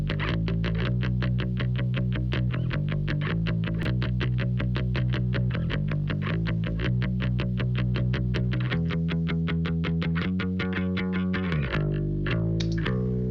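Steady bass line with a distorted, effected tone and a faint delay trailing each note, played continuously and evenly with no talking.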